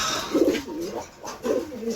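Pigeons coo in soft, rolling bursts while their pot is cleaned, two clear coo phrases close by with a brief lull between them and no talking.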